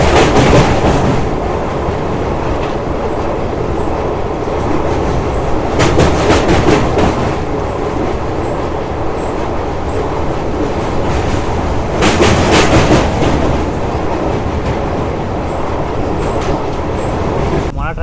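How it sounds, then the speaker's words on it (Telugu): The Simhadri Express, running from Visakhapatnam to Guntur and nearing Mangalagiri, rumbles loudly from inside with a steady roar and bursts of rhythmic clickety-clack over rail joints. Faint voices can be heard now and then. "మన ట్రైన్ వచ్చేసి మంగళగిరికి అయితే రీచ్ అయింది."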